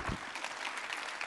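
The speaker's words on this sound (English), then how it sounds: "Everyone give them a big round of applause." Short burst of audience applause at a mental health session of a conference, a quiet, even wash of many hands clapping.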